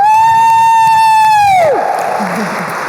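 A keynote audience at the CGLCC Summit 2019 breaks into dense applause and cheering right after a long, drawn-out shout from the stage, the clapping filling the room at close range.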